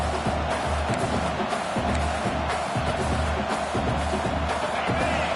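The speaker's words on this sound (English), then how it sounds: "This crowd is trying to inspire this defense to make a big red zone stop." A football stadium crowd roars during a defensive red zone stand, producing a dense, sustained wall of cheering and shouting that stays loud throughout.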